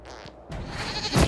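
A goat bleats twice in Dragon Age Inquisition, a short nasal bleat followed by a louder, longer one close by, with no speech.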